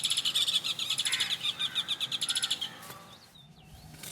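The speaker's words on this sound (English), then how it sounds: "This family of master fishermen are warming up for a day of work." A family of pied kingfishers calls in a wetland marsh, giving rapid, repeated high chirps and twitters in quick bursts for about three seconds before thinning out to a few faint whistles.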